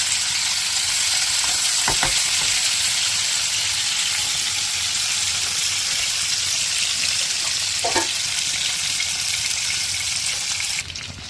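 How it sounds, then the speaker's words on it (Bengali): Koi fish coated with turmeric and salt frying in hot oil, a loud, steady crackling sizzle heard close up, with a couple of brief clinks of a utensil, continuous throughout without talking. "আমি কই মাছগুলি একটু হলুদ, একটু লবণ দিয়ে মেখে ভেজে নেব।"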